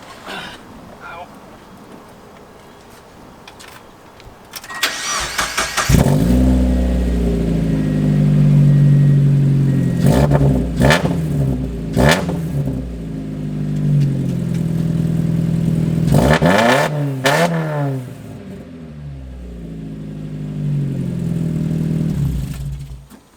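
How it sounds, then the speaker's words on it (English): A Mazda Miata's engine cranks and catches, then idles loudly with a raspy exhaust through only an ISR mid pipe, punctuated by several sharp revs that rise and fall. "we're gonna turn the car on with just the mid pipe only."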